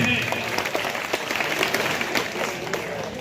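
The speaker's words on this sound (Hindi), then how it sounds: "तालियां एक बार फिर से" Schoolchildren clap at a Gandhi Jayanti gathering at Krishak Inter College, Maholi, a brief stretch of dense, steady applause mixed with background chatter.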